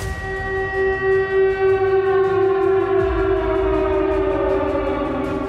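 A civil defense air raid siren wails steadily and loudly, a sustained rising-and-holding tonal howl with a slight warble that fills the whole stretch without pause or speech.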